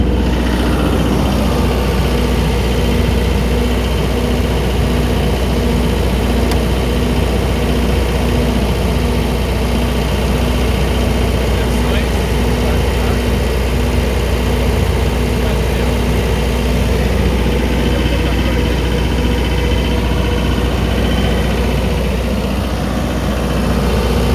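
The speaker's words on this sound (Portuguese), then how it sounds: "Já partiu o gerador." Cummins diesel generator running steadily throughout, a continuous loud low engine drone with a constant hum, no talk over it.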